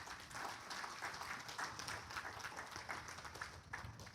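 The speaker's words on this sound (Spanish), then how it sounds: "Un aplauso al Señor, mis hermanos." A church congregation claps together in steady, dense applause that holds at an even level throughout, with a faint voice now and then beneath the clapping.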